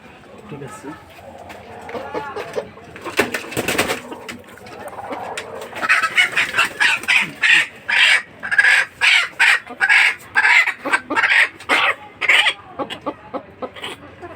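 Chickens cluck and squawk in a rapid series of loud bursts during a weekly winter health check, handled up close, with a person talking over them.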